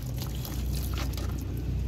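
Water is poured steadily over cats during a bath, a continuous close splashing pour with no pauses.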